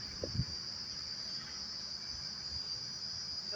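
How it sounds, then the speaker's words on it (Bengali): Crickets chirp in a steady, high, continuous drone at a quiet, secluded roadside spot on a cold evening, with a few faint low knocks and bumps close by. "ঝিঝি পোকার আওয়াজ শোনো"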